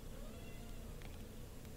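A cat meows in Final Fantasy XIV, faint and steady over about two seconds beneath a dense wash of game ambience.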